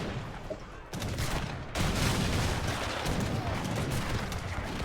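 Culverin and falconet cannons firing in a video game battle, a dense rumbling barrage of overlapping booms and cracks that jumps louder partway through and keeps going steadily.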